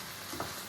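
Mushrooms and leeks frying in a pan alongside carrots, a soft steady sizzle with a faint stir, quiet and close, no talking.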